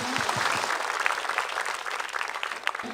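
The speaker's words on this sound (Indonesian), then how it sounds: "Tepuk tangan dong." A live audience claps at an outdoor Islamic religious gathering in Makassar, a dense, steady patter of many hands lasting throughout, with a few voices faintly underneath.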